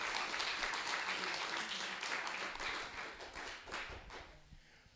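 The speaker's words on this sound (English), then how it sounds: "Let's give him a nice round of applause," Audience applause at a county community meeting, a steady wash of clapping from many hands that gradually thins and fades toward the end.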